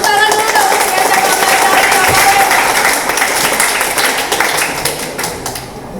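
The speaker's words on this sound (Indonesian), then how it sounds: "Tepuk tangan dulu dong untuk SMA" Audience applause for a high school debate team at a school debate competition: dense, loud clapping from a crowd filling the room, gradually fading toward the end.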